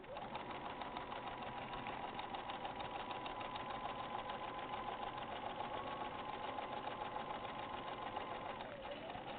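A sewing machine stitches webbing onto a bag, a steady fast mechanical whir and rapid needle chatter running continuously at close range without pause.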